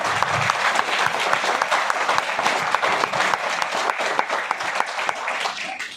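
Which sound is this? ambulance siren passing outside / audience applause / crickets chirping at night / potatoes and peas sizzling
audience applause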